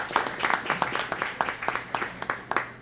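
An audience at a hospital's 30th anniversary event applauds hospital staff with a moderate, fairly even patter of clapping hands that continues throughout without talk.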